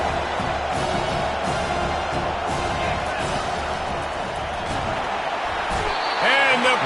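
Dense, steady roar of a large college football stadium crowd during a second-half defensive stand, continuous and loud throughout with a brief swell near the end and a commentator talking over it.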